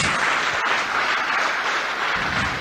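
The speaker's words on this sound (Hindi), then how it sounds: "जोरदार तालियां इनके लिए, थैंक यू वेरी मच।" Sustained audience applause at a motivational business seminar, loud and dense clapping filling the whole stretch without a break.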